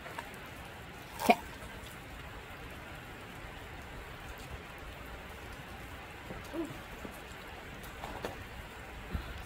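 Rain falling outdoors, a soft continuous hiss of drops on surfaces with a few isolated louder taps and drips, fairly faint and steady with no talking.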